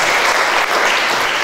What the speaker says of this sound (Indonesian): Beri tepuk tangan yang meriah.